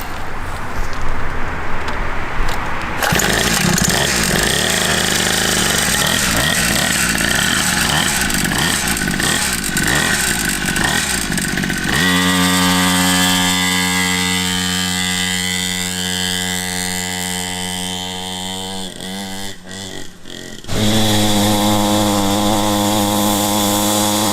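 Cheap Temu two-stroke pit bike engine running loud and close, revving up through buzzing harmonics, dropping back, then surging again near the end, with no voices over it.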